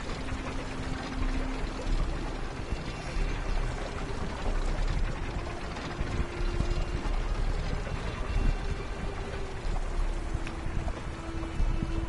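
Water flowing indoors inside a house in a video game, a steady continuous rush and pour that holds level throughout with a faint low hum beneath, no talking.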